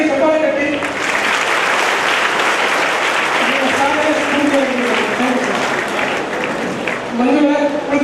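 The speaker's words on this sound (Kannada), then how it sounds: "ಇನ್ನೊಂದ್ಸರಿ ಚಪ್ಪಾಳೆ ಕಟ್ಟಿ" An audience at a youth community event claps loudly and continuously in a hall, a thick sustained roar of hands, while a voice keeps talking over the applause throughout.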